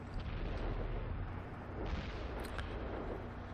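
A tank cannon in a video game, a Charioteer, fires a single deep, rumbling boom over a steady engine drone, heard up close with no voices.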